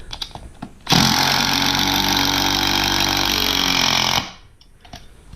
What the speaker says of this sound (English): I'd show you guys putting some long, I think they're like 4-inch screws into it